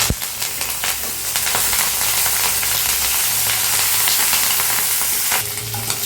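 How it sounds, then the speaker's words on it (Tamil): Fennel seeds, green chillies and curry leaves crackling in hot oil in a pan, a loud, dense, continuous sizzle with scattered pops and spits, heard up close. "பேனில் எண்ணெய் ஊற்றியாச்சுங்க எண்ணெய் நல்லா சூடாயிடுச்சு சோம்பு போட்டுக்கணுங்க பச்சை மிளகாய் கருவேப்பிலை"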